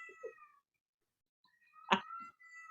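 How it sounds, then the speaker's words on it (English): A small cat meows indoors in faint, tonal calls, with a brief short mew at the start, a pause, then a longer stretched meow with a louder burst of mixed noise. "That is literally his meow."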